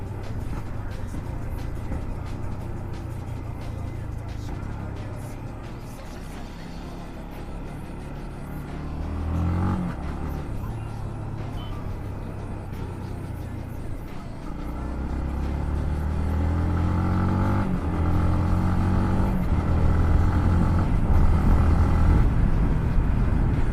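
A motorcycle engine revs and drops through gears in a clutchless downshift, a steady close rumble whose pitch climbs and falls in several rising-and-falling sweeps, growing louder in the second half.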